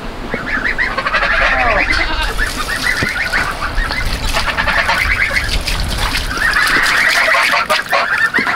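Geese and other waterfowl confined in a farm pen honk and squawk continuously, loud and close, overlapping calls rising and falling in bursts against a noisy yard background, with no speech.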